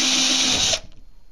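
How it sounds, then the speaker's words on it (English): A power drill whines steadily at high pitch for under a second while drilling a pilot hole in a door for a peephole, then cuts off abruptly, leaving a faint rattle. "Now I'm going to make my pilot hole."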